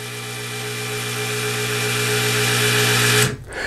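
A motorized ball valve hums with a steady whine as its motor energizes and drives the valve closed, slowly rising for about three seconds before cutting off abruptly.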